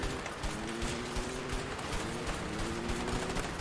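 Gunfire in the video game A Way Out, a steady dense crackle of repeated shots running throughout at moderate level, with no talk over it.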